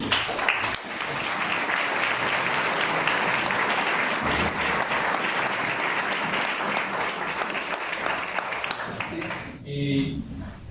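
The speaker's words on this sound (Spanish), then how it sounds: "Francisco, Mario Padre, Marcela, todos ellos merecen un aplauso de reconocimiento por este tremendo esfuerzo que se ha hecho." Sustained audience applause at a Spanish-language book presentation, a thick, even roar of clapping from a large crowd lasting about ten seconds before tapering off, with a voice briefly heard at the very end.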